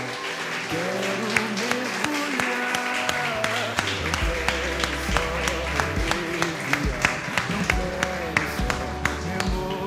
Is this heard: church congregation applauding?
yes